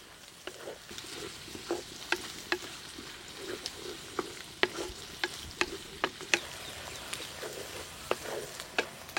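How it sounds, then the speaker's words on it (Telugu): Chopped onions fry in hot oil with whole garam masala spices, giving a steady sizzle broken by sharp crackles and pops at irregular intervals, close and fairly quiet, with no voices. "కోసి పెట్టుకున్న ఉల్లిపాయ ముక్కలు వేసేసుకుందాం"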